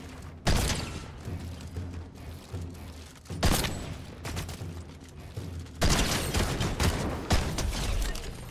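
Gunfire from a Fortnite competitive cup match, with repeated bursts of shots and sharp loud reports at intervals over steady game background noise.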